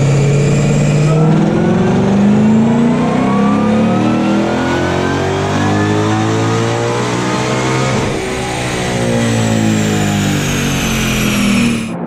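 A 2020 Shelby GT500 Mustang engine on a dyno run with the hood closed, climbing in a long, loud, sustained rev with rising harmonics, a brief shift-like dip partway, then pulling higher again.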